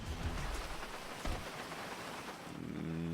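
Rain in Grand Theft Auto Online, a continuous hissing downpour with faint rumbling, moderately quiet and steady before a tonal hum rises near the end.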